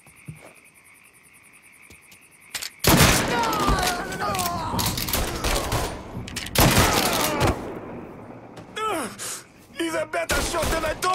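Gunfire erupts in Mafia III on PS5 after a quiet start, loud sharp bursts packed together for several seconds with brief pauses, mixed with game effects and voices.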